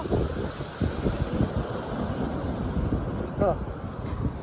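Sea waves at Ramanagindi beach make a steady surf roar, heavily buffeted by wind against the microphone throughout.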